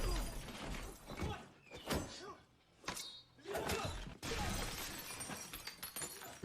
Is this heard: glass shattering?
yes